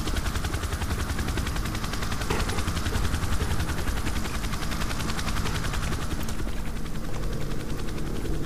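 A helicopter in the video game S.T.A.L.K.E.R. Shadow of Chernobyl drones steadily with a dense, continuous rotor roar, mixed with bursts of gunfire, loud and unbroken throughout with no talk.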